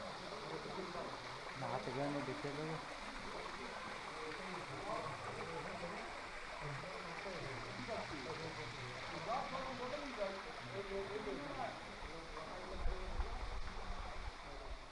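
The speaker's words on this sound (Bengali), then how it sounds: "আমি এখন দাঁড়িয়ে রয়েছি ধারাগিরি ফলসের একদম সামনে" Dharagiri Falls near Ghatshila rushes in a steady, moderate wash of flowing and gurgling water, with faint voices mingling in the background.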